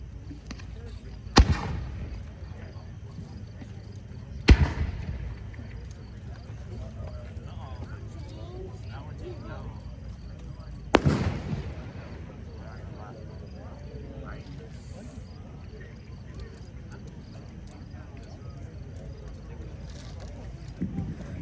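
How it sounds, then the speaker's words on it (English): Yellow brocade fireworks at a pyrotechnics competition give three sharp, distant booms, each trailing off into a fading wash over a steady background hum. "Northeast Ohio Pyrotechnics Group with a yellow brocade."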